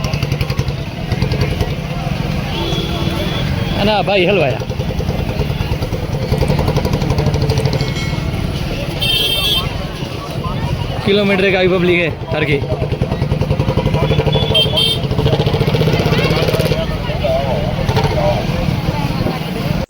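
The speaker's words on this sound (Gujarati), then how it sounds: "જુઓ ટ્રાફિક ફૂલ જામ હે" Motorcycles and cars crawl through a traffic jam leaving the Pakalsar fair at Kabrau village, engines rumbling and revving steadily nearby while people talk over the noise.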